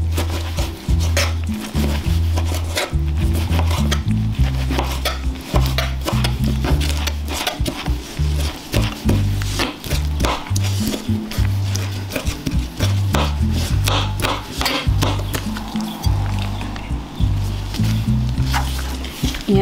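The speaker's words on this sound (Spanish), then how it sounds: "Y así le vamos a ir picando cada tomate" Cooked tomatoes chopped with a knife on a board for a traditional Guatemalan tomato sauce, a long run of close, soft, repeated thuds in an uneven rhythm with a wet squish.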